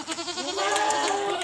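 A farm goat gives one short, wavering bleat, close and clear, rising slightly and trembling through its length with nothing else around it.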